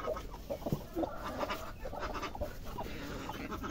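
Hens cluck on a small home farm where several are brooding eggs in their nests, a steady chorus of soft, near clucks and short calls over a busy outdoor background.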